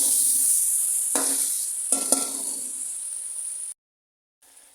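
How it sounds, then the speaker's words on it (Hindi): Spices sizzling and frying in a pan for mixed vegetable pulao, with a steady loud hiss and a few brief stirring scrapes, cutting off abruptly near the end. "सारे स्पाइसेस ऐड करने के बाद इसको फ्राई करें अच्छा सारा।"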